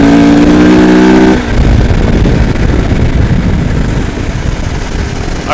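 Husky 701 motorcycles ride on a trail in southwest Colorado. A loud, close engine drone holds a steady pitch at first, then drops into rougher, rumbling wind-buffeted roar as the bike keeps moving.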